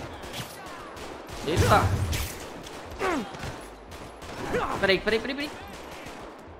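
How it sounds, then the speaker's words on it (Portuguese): Gunfire in GTA 5 rings out in short scattered bursts, some loud and some further off, while someone talks in between. "O cara tá me atirando aqui."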